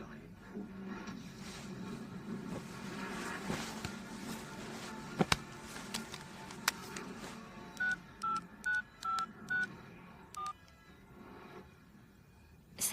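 Telephone keypad dialing: a run of distinct DTMF tones, about seven evenly spaced beeps followed by one more, heard under a background of movement and room noise.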